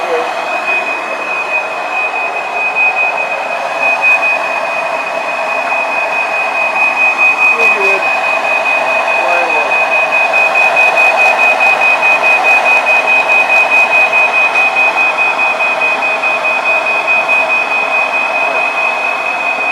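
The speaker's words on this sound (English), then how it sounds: "Let's turn this alarm off now." A continuous high-pitched electronic alarm tone drones steadily throughout, piercing and unbroken, with faint background noise and some talking beneath it, during upstairs bathroom renovation work.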